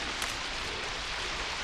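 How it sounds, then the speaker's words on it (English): Rain falls steadily in a jungle, a dense, even hiss of countless drops on leaves and surfaces, constant and fairly close throughout. "Here comes the rain in the jungle."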